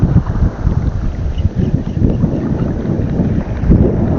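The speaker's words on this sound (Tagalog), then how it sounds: "Maalon na naman." Rough, choppy sea churning around a small fishing boat, a dense low rumble of sloshing water with gusty wind buffeting the microphone throughout, no voices.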